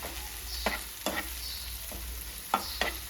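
Onions frying in a pan for a chicken liver fry, a steady sizzle under a few distinct scrapes of a spoon stirring through them, close up with no talking.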